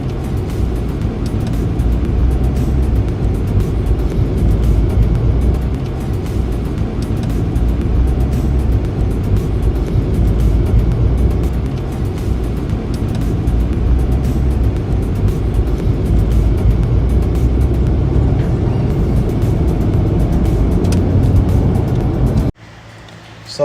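A Mercedes E-Class W212 in Sport Plus mode drives with a steady, loud low engine and road drone that holds evenly before cutting off abruptly near the end.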